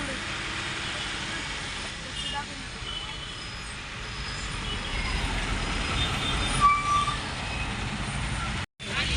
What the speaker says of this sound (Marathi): लोणंदमध्ये आले पहा किती गर्दी आहे ट्रॅफिक